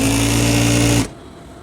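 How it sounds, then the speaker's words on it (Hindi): A sewing machine hums loudly and evenly while stitching a shalwar trouser seam, then stops abruptly about one second in, leaving near silence. "तो आपने उसके बाद ये सिलाई मुकम्मल कर दी।"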